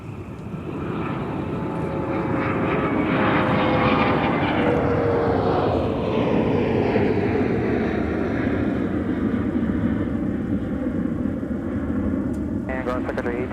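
A Southwest airliner landing on runway 30 left at Minneapolis–St. Paul airport: a steady, loud jet engine roar swells and then slowly fades. Air traffic control radio talk runs over it.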